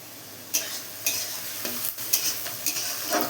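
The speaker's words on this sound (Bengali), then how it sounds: "আমি এখানে পেঁয়াজ, ক্যাপসিকাম, গাজর এগুলো লাল করে ভেজে নেব।" Onion, capsicum and carrot fry in a pan for fried rice, a soft continuous sizzle punctuated by several rhythmic stirring scrapes with faint metallic clinks, close up and without speech.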